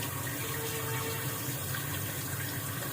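Tap water running steadily into a kitchen sink, a continuous broadband splashing rush at moderate level with no talk over it.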